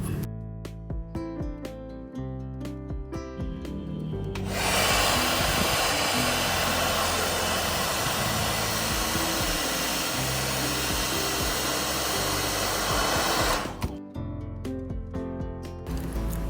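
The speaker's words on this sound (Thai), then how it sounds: "ผมก็จะทำการเป่าไปยังบริเวณรอบๆ ในส่วนของตัวสแกนนิ้วนะครับ เพื่อ ให้กาวมันคลายตัวนะครับ" A hot air blower heats the back of a Redmi 10C phone around the fingerprint scanner to loosen glue, a loud, steady rushing roar running for about nine seconds with music playing before and after it.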